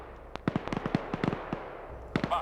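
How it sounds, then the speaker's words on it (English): A rapid volley of video game gunshots from a tactical shooter, about a dozen sharp cracks in an uneven burst, then a short pause and a final couple of shots, fairly loud and with no talk over them. "Now they hear those gunshots, so they're gonna follow down."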